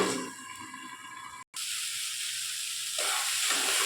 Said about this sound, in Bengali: আমি শাকটাকে ভেজে